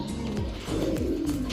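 A Kaufman cross pigeon coos in soft repeated low rolling notes, close and steady, against a quiet background with no speech.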